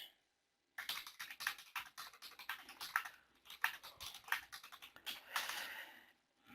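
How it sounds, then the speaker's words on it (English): A steady run of close, crisp computer keyboard keystrokes goes on for several seconds after a brief silence, with no voices. "And then I can type in whatever I want."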